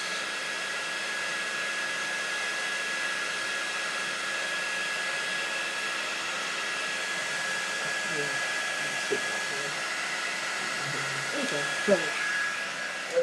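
A hair dryer blows steadily on a fabric heat transfer, a constant airy whoosh lasting throughout, with a few soft handling knocks near the end.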